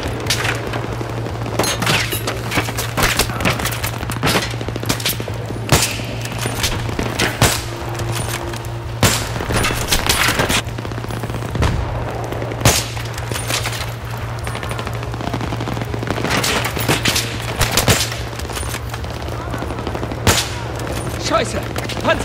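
Rapid bursts of Battlefield 3 gunfire and booms crackle continuously, with heavy repeated shots layered over a low steady drone.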